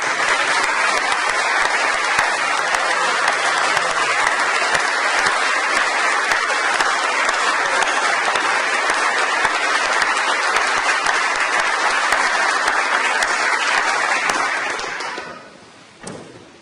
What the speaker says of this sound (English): please to stand and accept a warm round of applause